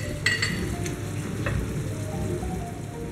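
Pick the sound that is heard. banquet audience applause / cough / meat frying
meat frying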